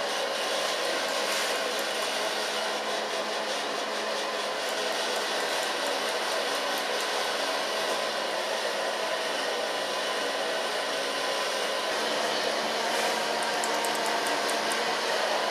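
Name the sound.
hair dryer blow drying short hair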